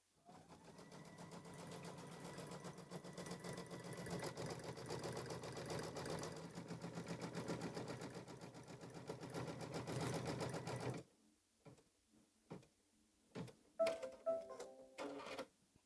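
An embroidery sewing machine stitches a placement line on a quilt block, a quiet, fast, steady whirring hum for about eleven seconds that then stops, followed by a few faint clicks and handling noises.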